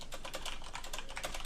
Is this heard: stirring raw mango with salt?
no